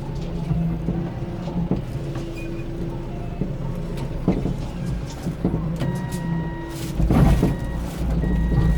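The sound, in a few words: forklift reversing beeps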